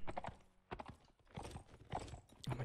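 Hooves of a horse in the game Mount and Blade Warband clip-clop in a steady trotting rhythm, close and loud, with the horse whinnying briefly near the end.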